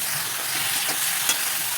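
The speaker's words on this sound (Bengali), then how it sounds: "এবার আমি সয়াবিনটাও দিয়ে দিলাম, সয়াবিন দিয়েও আমি ভালো করে কষিয়ে নেব।" Soybean chunks sauté with papaya and potato in a pan, a continuous bright sizzle with a few quick stirring scrapes, fairly close and loud.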